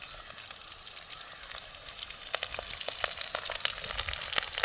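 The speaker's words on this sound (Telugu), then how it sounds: "కట్ చేసి పెట్టుకున్న ఎర్రగడ్డలను కూడా వేసేస్తున్నా" Chopped onions crackle and sizzle steadily in hot oil with cumin and curry leaves, a continuous close frying hiss with scattered sharp pops, for a village-style fish curry.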